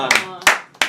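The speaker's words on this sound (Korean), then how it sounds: "처음 박수가 나왔어요" A few quick bursts of hand clapping break out at an indoor livestream snack party, three short claps spaced close together against a quiet room. Nearby voices talk between them.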